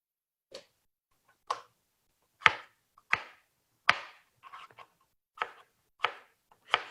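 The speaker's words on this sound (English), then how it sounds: "And then what I'm going to do is do a fine dice of the cucumber." A knife finely dices cucumber flat side down on a cutting board, giving about nine crisp, close chops at an uneven, unhurried pace with quiet gaps between strikes.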